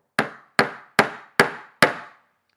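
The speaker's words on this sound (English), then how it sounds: "When you're ready, you're going to hold your pieces together and tack in your first nail." Nail being hammered into wood pieces while building a small portable stool: five sharp, evenly spaced hammer blows about 0.4 seconds apart, each ringing briefly, close and loud with no talking.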